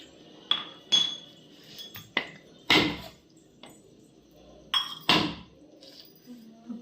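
A coconut being cracked open at home, several sharp hard knocks and clinks spaced out over a few seconds, fairly close, with quiet background between strikes.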